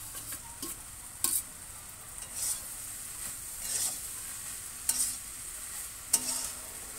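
Fried prawns are stirred in a pan with a spoon, giving soft scrapes and occasional knocks over a faint steady sizzle, close and quiet, with no talking.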